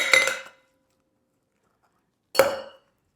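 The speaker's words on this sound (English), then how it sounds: "Let's go ahead and put some ice in there. Gonna go ahead and do 3 ice cubes." Ice cubes dropped into a glass holding orgeat lemonade ingredients: two sharp, clattering clinks, the second after a long pause of silence.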